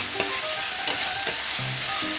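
Onions sauté in a pan for a rajma gravy, stirred without pause until they turn pink: a steady close sizzle with repeated scraping strokes of the spoon roughly every half second, no voices.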